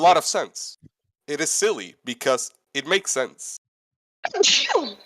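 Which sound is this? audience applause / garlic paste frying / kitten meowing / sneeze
sneeze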